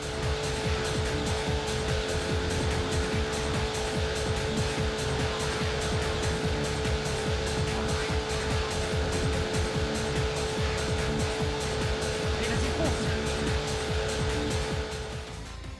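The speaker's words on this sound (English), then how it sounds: "The car sound effects are mid at best and terrible at worst." Car engine effects from a PS1 racing game play continuously and loudly, a droning motor tone with steady pitch and rhythmic revving, mixed with tire squeals, and no voices.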